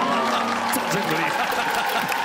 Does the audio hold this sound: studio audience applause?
yes